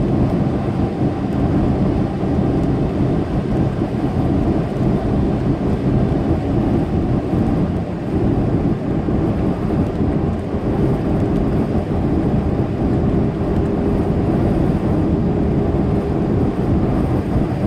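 A thunderstorm rumbles around a big rig truck driving I-80 from Kimball, Nebraska toward Cheyenne, Wyoming, a loud continuous low roar of thunder and rain mixed with road and cab noise, no talk.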